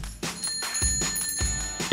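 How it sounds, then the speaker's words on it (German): Bright bell tones ring repeatedly in quick succession, a doorbell chiming several times close by, fairly quiet. "Oh nein, die Türklingel."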